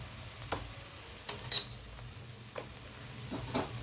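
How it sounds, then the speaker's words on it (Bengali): Coriander and cumin powder frying in oil in a pan, a faint steady sizzle broken by a few scraping stirs and one sharper clink, close by with no speech. "এখন আমি এটাকে সুন্দরভাবে ভেজে নেব।"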